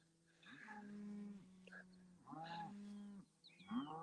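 Cattle on a muddy farm moo in two long, deep calls close by, followed by a shorter third low, with quiet pauses between.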